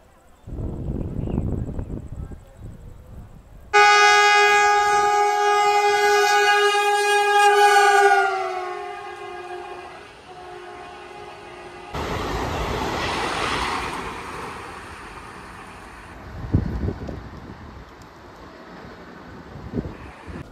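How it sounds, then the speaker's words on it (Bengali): Darjeeling Mail 12343 pulling into platform 3 at Panagarh railway station: a long, loud blaring horn sounds, then the heavy rolling rumble and rattle of the coaches continues under open-air station ambience. "আমার ট্রেন ঢুকছে পানাগড় রেলওয়ে স্টেশনের 3 নম্বর প্ল্যাটফর্মে।"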